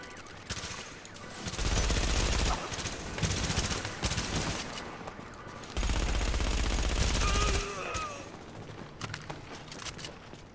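Turret gunfire in The Division, a co-op shooter game, with two long loud bursts of rapid automatic fire and scattered shots in between. Game sounds and faint voices sit underneath.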